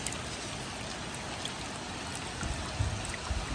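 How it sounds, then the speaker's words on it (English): Light rain trickling and running off a house gutter, a steady close-up watery hiss with faint dribbling and a few louder drips near the end. "here we have a fairly light rain, and it looks like water is not"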